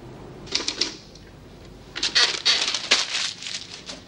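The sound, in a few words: typing on a typewriter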